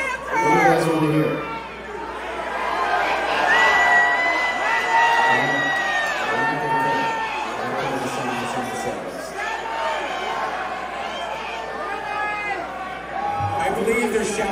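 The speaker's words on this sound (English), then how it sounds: "I believe they're shouting for wine." Concert crowd at a show in a Napa ballroom shouts, cheers and whoops in a loud sustained roar of many overlapping voices, swelling and easing across the span.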